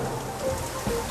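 Wind and rain pummeling southern England on a stormy night, heard as a steady broadband wash of rainfall and gusting wind with no voices.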